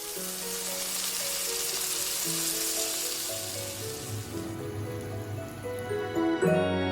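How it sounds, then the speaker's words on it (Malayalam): Diced potatoes and chicken frying in oil for a Malabar-style zurbian biriyani, a steady broadband sizzle running continuously and fairly close, with faint tonal background music beneath and a brief louder clatter near the end. "ഇത് ഈ മിക്സ്ചറിൽ മിക്സ് ചെയ്ത് ചിക്കൻ്റെ കൂടെ ഫ്രൈ ചെയ്തെടുക്കാം"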